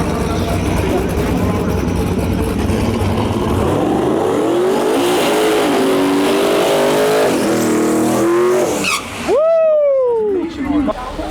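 A Ford Mustang drag car at a no prep shootout roars through a long, loud pass under commentary, its engine pitch climbing and shifting before the sound drops away and a sharp rising whine follows.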